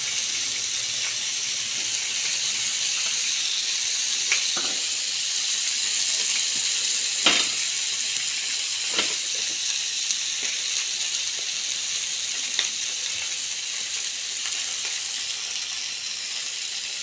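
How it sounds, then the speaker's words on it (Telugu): Murrel fish frying lightly in a pan, a steady, close sizzle with occasional louder pops and crackles throughout. "ఇంకా మిగతా చేపలు కూడా ఇలాగే ఫ్రై చేసేసుకుందామండి. మరీ డీప్ ఫ్రై కాకుండా లైట్గా చేసుకుందాం."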